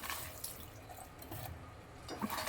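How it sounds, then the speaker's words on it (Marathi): Spinach is rinsed under running water from a kitchen tap, a faint continuous trickle with soft splashes and drips as the leaves are handled. "आता पालक धुवून घेते"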